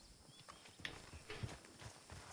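Horse hooves clip-clopping at a walk in the video game The Outer Worlds, a soft, steady rhythm of hoof falls under faint game ambience.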